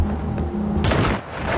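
A single sharp gunshot rings out in Generation Zero, cutting through a low droning background and then trailing off into a short echoing tail.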